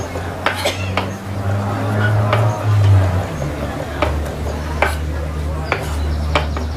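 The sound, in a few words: stirring chopped shallots and garlic in a pan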